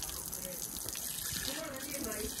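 Hot water runs steadily from a tap in a close, continuous gush, with a person talking over it.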